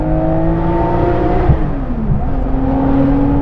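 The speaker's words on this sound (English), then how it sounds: "this is the ambassador for naturally aspirated engines" A Guntherwerks Porsche 993 Speedster with a naturally aspirated engine revs and drones, its pitch sweeping up and down as it holds, loud and close, with no talk.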